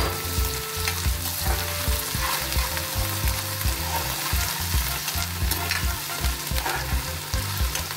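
Crushed ginger-garlic paste fries in a chicken curry pan, giving a loud, steady sizzle over the full stretch, with repeated low knocks as it is stirred.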